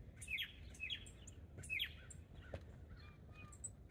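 Several tufted titmice give short, sharp chirping calls in quick bursts, fairly close, over a low outdoor background rumble.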